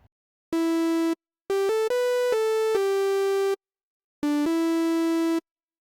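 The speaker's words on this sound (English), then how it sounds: "that's going to give us a nice sawtooth kind of sound like this" A buzzy sawtooth synth lead built from Mini Waveforms in Arturia Pigments plays short, separated notes in a Minimoog-style phrase, with clean gaps of silence between loud, bright tones.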